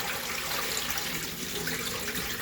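Rice being rinsed on about its third wash, a steady broadband rush of running water splashing into a bowl, close and continuous, no voices.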